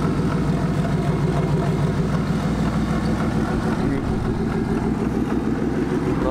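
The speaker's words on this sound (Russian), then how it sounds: "Шум будет, конечно же, мощный, потому что нет у нас глушителя." A Chrysler engine for a 2003-2008 Pacifica with 130,000 km runs with no muffler and a noisy right tensioner pulley, giving a loud, steady, throaty drone with a constant low rumble throughout.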